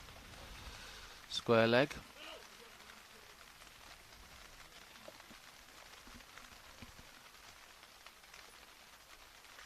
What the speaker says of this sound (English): the rain's just starting to get harder again on our little tent